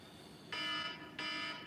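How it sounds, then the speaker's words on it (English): A phone alarm sends out two electronic beeps in a steady repeating pattern, faint and somewhat distant, with no talking. "alarm phone is going to just beep 90 times because that's what it does"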